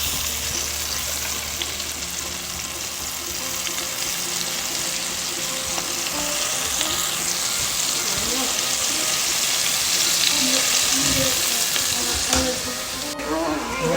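Onions sizzle and crackle steadily in a hot pan, a dense frying hiss that continues throughout with occasional stirring clatter.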